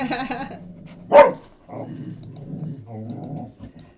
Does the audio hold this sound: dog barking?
yes